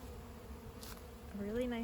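Honeybees at an open hive during a spring inspection buzz faintly and steadily, a few individual bees droning louder close by toward the end.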